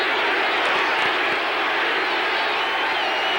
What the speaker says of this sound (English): Now the crowd chants defense.